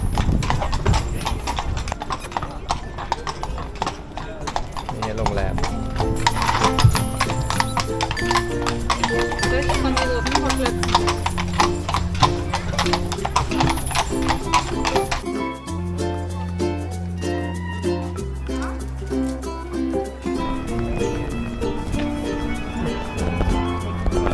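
Horse-drawn carriage on a sightseeing ride through Dresden, hooves clip-clopping steadily and loudly over the street with continuous rattling and rumbling from the carriage.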